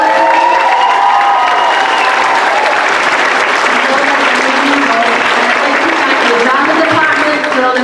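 Loud, sustained applause fills a hall at a school Christmas concert, a dense wall of clapping from a large audience with faint cheering mixed in throughout.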